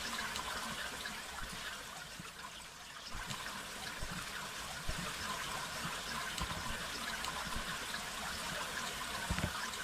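Water flowing at the source of a river, a steady broadband rushing and trickling that stays even and fairly loud throughout with no voices.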